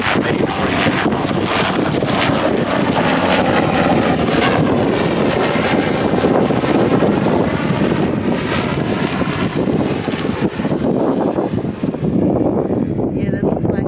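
A helicopter passes overhead as a loud, continuous, wind-buffeted engine roar. Rotor throb pulses through it for the whole stretch.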